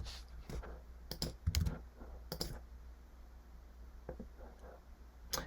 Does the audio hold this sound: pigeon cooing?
no